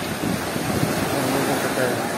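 Storm surf at Blue Bay, Gelendzhik, on the Black Sea, rolling in as a steady broadband roar with a slight surge near the middle, close and fairly loud, mixed with wind buffeting the microphone.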